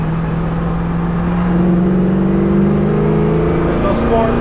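A 1966 Pontiac GTO convertible's V8 pulls with a sustained roar as the four-barrel carburetor opens up, engine tone climbing steadily and heard loud from inside the moving car, with talk over it.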